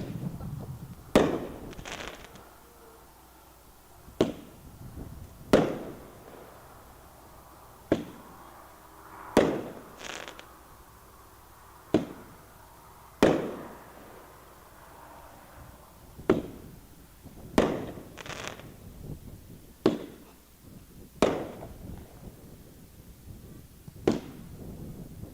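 Fireworks at an annual dealer show, a dozen or so sharp booming bursts spaced a second or two apart, each crack trailing off in echoing crackle, loud and fairly close.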